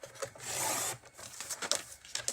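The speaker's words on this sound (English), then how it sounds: "We'll just grab a sheet of Highland Heather and my trimmer. Okay, and I'll trim that at 5 3/4 inches" A paper trimmer slicing a sheet of Highland Heather cardstock: a smooth, close rasping slide of the blade lasting about half a second, followed by a few light taps and rustles of the paper.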